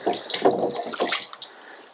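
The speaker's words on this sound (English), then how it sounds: "Give the celery a bit of a rinse." Celery stalks are rinsed under running water, brief splashy bursts and trickling for a couple of seconds, close and fairly loud.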